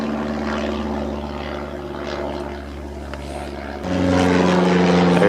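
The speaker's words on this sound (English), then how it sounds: "it's weird that plane has circled 3 different times" Propeller airplane circling overhead, a steady droning engine hum that swells louder toward the end, heard outdoors on a property where a Husqvarna AWD mower is being used.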